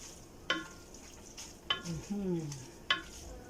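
Pansit noodles sizzle faintly in a pan while a utensil scrapes and stirs in a few sharp strokes, with a brief voice in between.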